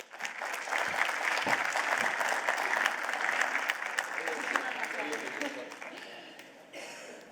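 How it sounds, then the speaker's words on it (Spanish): Applause from an audience at a sports cell-therapy conference welcoming a speaker, brisk clapping that swells quickly, holds steady, then tapers off near the end. "Un fuerte aplauso, por favor."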